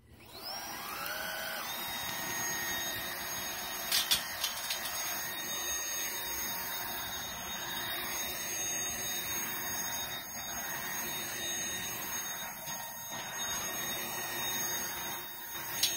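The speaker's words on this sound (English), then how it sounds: "I never thought that I would be vacuuming a trampoline with the Shark vacuum cleaner" A Shark DuoClean cordless upright vacuum cleaner (IC160UK) drones steadily throughout while vacuuming a trampoline, a constant motor whine with a few brief knocks and bumps; no one speaks.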